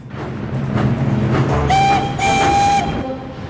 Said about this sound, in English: Thomas heard some chuffing and puffing